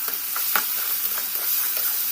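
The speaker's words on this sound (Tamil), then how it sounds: "நல்லா வணக்கி விட்டுடலாம்." Vegetables sautéing in a hot pan for semiya khichdi, a continuous close sizzle with scraping stirs of a spoon recurring every half second or so.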